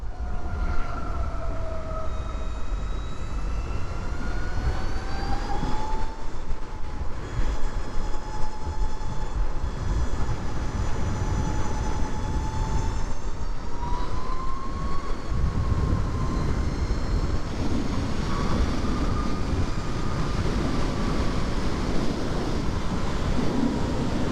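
Riding a 2020 Harley-Davidson LiveWire electric motorcycle: steady, loud wind and road rush with a thin electric motor whine that rises and falls with speed. No one speaks.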